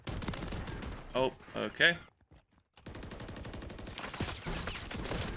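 A full-auto AR shotgun in Call of Duty MW3 fires in rapid, loud bursts of blasts, with a brief pause in the middle, while someone talks briefly over the gunfire.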